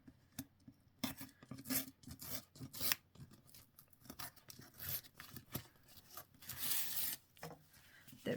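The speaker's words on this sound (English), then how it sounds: "That's over slightly on that bit, so I am going to just tear that." Paper torn away from the overhanging edge of a journal pad in a craft setting, a run of close, dry ripping and rustling bursts with short pauses between them, no talking.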